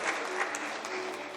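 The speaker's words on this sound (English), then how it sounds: "Let's have a round of applause for her." An audience at a dental education panel event applauds, a steady patter of clapping from many hands that holds evenly from start to finish.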